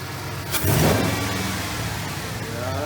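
A Hemi V8 car engine gives a sharp rev, rising quickly then settling back into a throaty idle, fairly close and loud.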